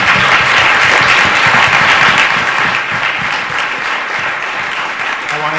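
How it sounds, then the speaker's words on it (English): A theatre audience at a live screenplay reading gives the actors a loud, sustained round of applause, dense clapping holding steady throughout with no pauses. "one last huge round of applause for all of the actors."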